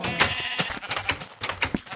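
Sheep bleating in the video game Minecraft, several short bleats close together and overlapping, loud and alone with no talk.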